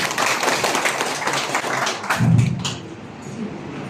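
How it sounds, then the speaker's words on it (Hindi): Audience applause for a senior agricultural scientist at a district agriculture and cooperative workshop and seminar, a short loud burst of clapping with a heavier thump midway before it tapers off. "इनके लिए जोरदार तालियां हो जाए।"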